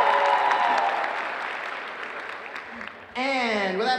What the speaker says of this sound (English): a round of applause for her and the fine work she's doing.